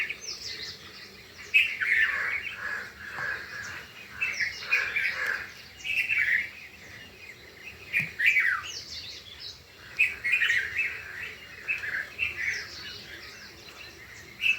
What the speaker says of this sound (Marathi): पक्षी उठलेले आहे, असा आवाज येत असेल ना.